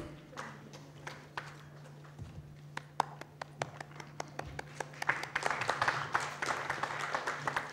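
Sparse scattered claps from a small audience at a talk on social media and social commerce, starting as a few isolated hand claps and building into denser, louder applause over the last few seconds beneath a low steady hum.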